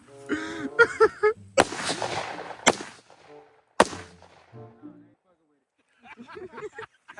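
Machine-gun fire with several sharp bursts and single loud cracks at close range, separated by short pauses, while people shout and talk excitedly around the shooting.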